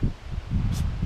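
Gusts of cold Kansas wind buffet the microphone outdoors in low rumbling bursts, with a brief rustle partway through.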